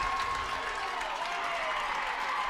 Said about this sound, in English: and clapping its hands.